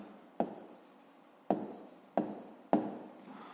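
Pen strokes on paper during a fifth-grade maths exercise, four sharp taps each trailed by scratchy writing, close and quiet with no talk.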